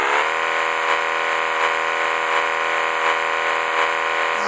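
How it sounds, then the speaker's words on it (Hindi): Simulated car engine from a driving simulator game, a steady, loud, harmonic drone held for several seconds with faint pulsing, no talk over it, cutting off abruptly at the end. "सो अभी इस गाड़ी की इंजन आवाज़ को थोड़ा सा टेस्ट कर लेते हैं।"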